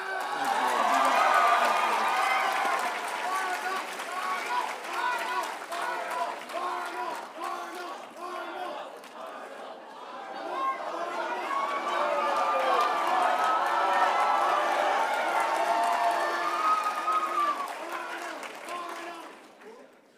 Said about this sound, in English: thank you very much for this great applause